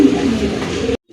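Pigeons in a Bangladeshi pigeon seller's stock, including paired and single fancy breeds, coo steadily and fairly loudly for about a second. The sound then cuts off abruptly into near silence.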